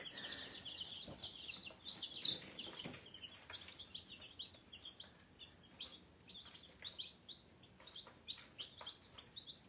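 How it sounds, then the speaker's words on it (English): Little chicks on a small farm peeping and chirping in a dense, continuous chorus, with some clucking from nearby fowl, steady and fairly close throughout with no talk. "Here's all the little chicks."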